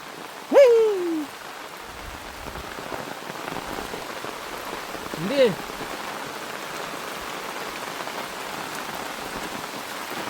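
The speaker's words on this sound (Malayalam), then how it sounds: "ഓ മഴ" Steady, even rain pours down outdoors on the heavily tagged pineapple-harvest day, a dense close hiss with no break, and two short rising-falling tonal calls cut through it, one early and one midway.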